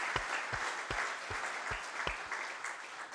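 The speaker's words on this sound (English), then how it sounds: "Once again, a warm applause for this insightful presentation." Audience applause after a talk at a business process management round table, steady dense clapping from a seated crowd throughout, fairly loud and without speech.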